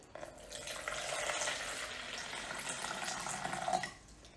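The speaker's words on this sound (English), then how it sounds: "I'm now going to top it up with about 800 millilitres of filtered water" Filtered water pours steadily from a jug into a vessel to top up a batch of kombucha, a close, continuous splashing gush lasting several seconds before tapering off, with no talk.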